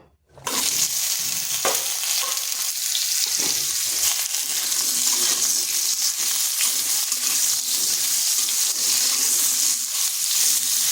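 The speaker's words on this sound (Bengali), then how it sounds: "পটলগুলোকে হাই আঁচে ভেজে নেব" Pointed gourd (potol) frying on high heat in oil left from frying potatoes, a sizzle that bursts in loudly after a brief silence and holds steady, with occasional stirring knocks.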